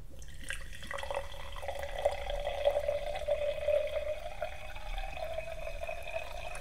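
Perrier sparkling water is poured into a glass, a continuous gentle trickle and fizz with a faint rising tone as the glass fills, close and quiet with no talking.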